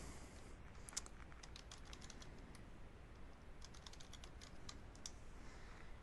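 Quick bursts of keystrokes on a computer keyboard as a library search is typed, the clicks clustered in two runs with a pause between, faint and close over a steady background hiss.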